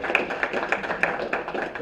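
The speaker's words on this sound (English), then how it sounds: "Let's give a round of applause." Round of applause at a city council meeting in Brownsville, Tennessee, steady rhythmic clapping from a small group of people heard close and moderately loud throughout.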